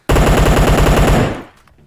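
A rapid burst of automatic gunfire in a video game, a dense stream of shots for over a second that stops abruptly and fades into silence.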